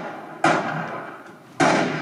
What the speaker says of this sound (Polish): Trzy strzały. Trzy stracone życia.